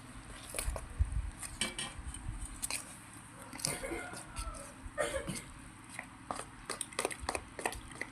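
A spoon stirs peanut brittle batter in a bowl while water is trickled in a little at a time, giving light, irregular clinks and scrapes against the bowl, with quiet voices now and then.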